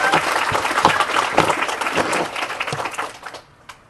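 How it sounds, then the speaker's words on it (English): An audience at a haunted literary reading claps for the writers in a dense, steady round of applause that holds strong, then thins and tapers off toward the end. "let's get another round of applause for these wonderful writers."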